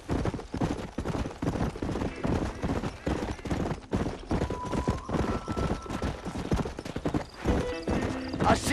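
Horse hooves clip-clop at a steady gallop in the Western video game Red Dead Redemption, loud and continuous, with an occasional whinny and a few distant gunshots over dense game sound.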